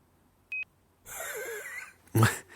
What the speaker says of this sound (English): All it does is put a beep at the end of the drop.